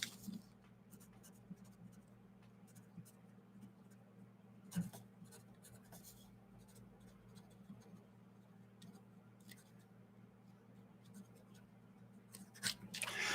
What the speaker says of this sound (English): I got to write this down